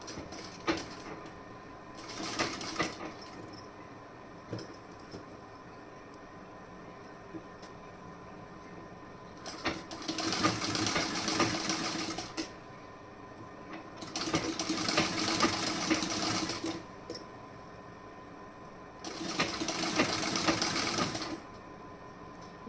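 A sewing machine stitches fabric in several bursts of rapid mechanical whirring, each lasting two to three seconds and separated by quieter pauses, heard close and fairly quiet.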